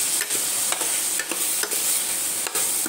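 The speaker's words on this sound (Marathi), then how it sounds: "हळद, हे आपण छान मिक्स करून घेऊया जेणेकरून आपले मसाले हे छान करपले जातील" Spices with turmeric and garam masala fry in hot oil for a ridge gourd bhaji, a constant hiss punctuated by about six regular scraping stirs, close up and without speech.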